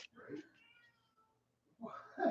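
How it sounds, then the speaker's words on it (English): A house cat gives two loud, close meows separated by a short quiet gap, heard alone indoors. "Our cat just meowed really loud."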